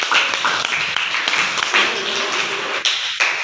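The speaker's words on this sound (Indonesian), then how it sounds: "Tepuk tangan buat kelompok 3." A class of schoolchildren in an Indonesian classroom claps for a group of students, giving dense, continuous applause with scattered individual claps throughout.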